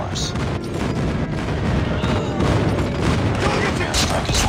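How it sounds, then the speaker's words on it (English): Video game battle in hardpoint mode, with airstrike explosions and dense gunfire booming and crackling continuously at close range, and game voices calling out over the din. "Friendly airstrike incoming."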